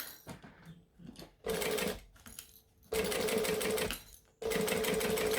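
A sewing machine runs slowly in three sustained bursts with short pauses between, stitching a quarter-inch seam carefully around corners, loud and close with no talking.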